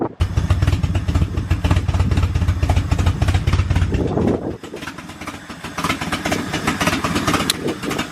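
A project car engine running at its first start-up, giving a loud, rough, uneven idle with a heavy low rumble at first, then a brief dip and lighter ragged running, recorded close by.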